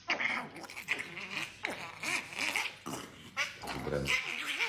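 A small dog growls and yaps in bursts alongside a person talking, the animal sounds loud and close, mixed in with and under the speech.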